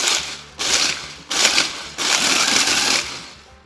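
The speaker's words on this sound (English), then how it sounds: "I'm just gonna add some crushed ice to this blender" A blender crushes ice for a cocktail in three short bursts, each a loud grinding whir that starts abruptly and cuts off, the last burst running longest before fading.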